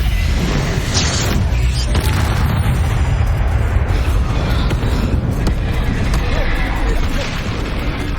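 Confringo fire spell blasts in Hogwarts Legacy, a dense continuous rumble of booms and crackling explosions, loud and close throughout, with combat noise and voices mixed in.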